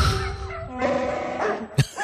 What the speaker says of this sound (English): Darth Vader's theme to the barking dogs.